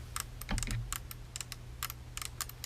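A camera's small internal mechanism clicking away, rapid irregular ticks in quick clusters over a steady low hum, close and fairly faint.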